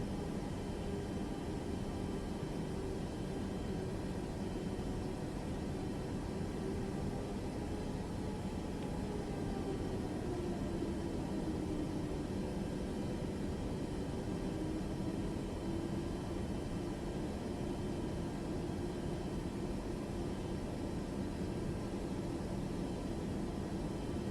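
A Boeing 737 MAX taxiing in Microsoft Flight Simulator 2024, its engines making a steady, low, broad rumble and hiss with a faint drifting tone, continuous and even throughout.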